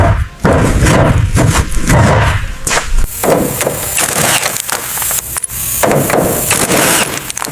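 A rusted bolt seal cracks loose on the rear mount of an abandoned muscle car under restoration, giving loud, close splintering cracks and thumps that repeat throughout.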